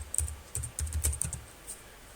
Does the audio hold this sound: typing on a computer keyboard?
yes